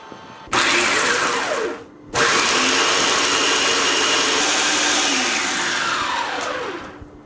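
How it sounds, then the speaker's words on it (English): A blender chops a homemade dog treat mixture, its motor roaring loudly in two bursts separated by a brief pause, the pitch dipping and rising as the blades work through the load. "going to take my mixture and then just dump it into my blender."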